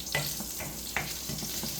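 Papadam fries in hot oil with a close, steady sizzling hiss and a few brief crackling bursts as the pieces are stirred and lifted, with no voices.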